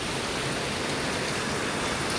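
Heavy rain from Typhoon Wilma, a dense, steady hiss of downpour drumming on surfaces, close and continuous with no voices.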